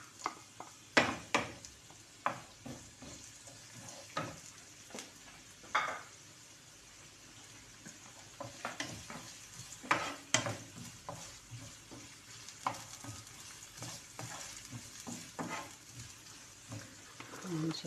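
Onions frying in a pan and being stirred, with a steady sizzle broken by repeated scraping strokes of the utensil at close range. There is no talking.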